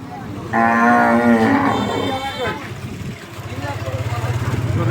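At a Qurbani cattle market in Comilla, Bangladesh, a cow lets out one loud, long moo near the start, followed by a busy background of low rumbling and murmuring noise.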